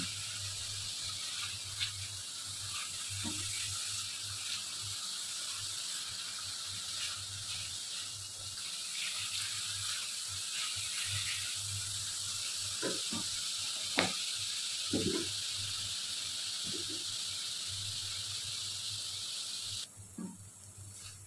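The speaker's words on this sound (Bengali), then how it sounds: "এখন একটু কষিয়ে তারপরে আবার পানি দিয়ে কষিয়ে নেব।" Ground cumin and coriander powder sautéing in hot oil in a pan, a steady close sizzle and hiss with a few sharp spatula scrapes and clicks near the end, no one speaking.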